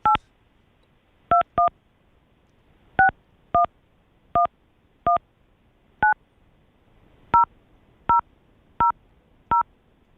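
Telephone keypad tones sound as a number is dialed: about a dozen crisp, evenly loud beeps at uneven intervals over quiet background, with no talking.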